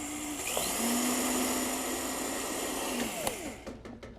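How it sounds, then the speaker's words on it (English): A food processor runs continuously, blending an oat soup with a loud, steady whirring motor drone that shifts slightly in pitch before winding down near the end. "use your food processor to do this whole thing"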